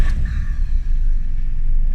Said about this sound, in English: it starts up beautifully